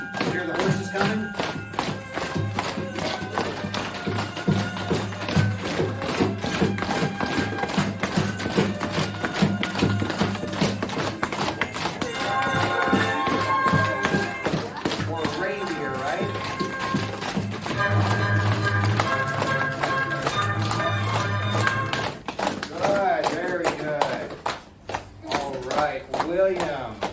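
Rapid rhythmic tapping imitates galloping hooves, running steadily along with music and occasional voices throughout.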